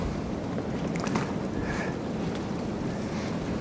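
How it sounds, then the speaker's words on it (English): Wind blowing steadily through a maple sugarbush in Maine on a clear day, a constant broad rush with microphone buffeting and a brief gust swelling near the middle, no voices. "Some wind happening."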